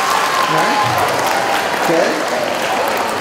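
Middle school students clap at an assembly on alcohol, tobacco and drug addiction, a steady dense patter of many hands filling the room, with a voice speaking briefly over it.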